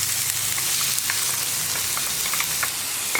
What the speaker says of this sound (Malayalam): നമ്മൾ ചതച്ച് വെച്ചിരിക്കുന്ന ഉള്ളിയും വറ്റൽമുളകും ചേർന്ന മിക്സ് ഈ എണ്ണയിലേക്ക് ഇട്ട് കൊടുക്കാം.